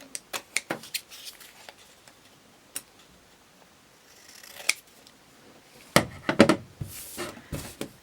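Sharp snips of scissors cutting folded paper for a small concertina nature journal, a quick run of close clicks at the start, a few scattered cuts, then a dense burst of snipping near the end; no talking.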